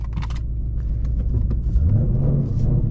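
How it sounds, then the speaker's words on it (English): A twin-turbo Ford Mustang engine idles nearby with a deep, steady low rumble that swells slightly partway through, with a few light clicks and knocks above it. "We are taking the Mustang for a stroll"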